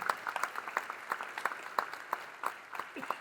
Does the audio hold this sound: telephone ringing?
no